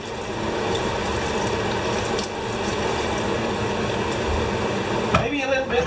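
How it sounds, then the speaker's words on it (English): Water poured into a pot holding tomato mash, a steady splashing stream for about five seconds that breaks off sharply into a few clanks and rattles at the end. "Water."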